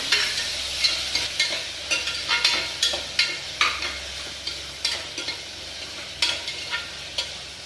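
Tomatoes and onion sautéing in a pan for potato kurma, a steady close sizzle broken by repeated scraping stirs at an uneven rhythm, with no voices.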